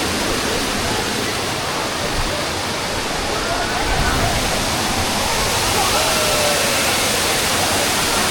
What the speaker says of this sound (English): So this is the beautiful Jhari waterfalls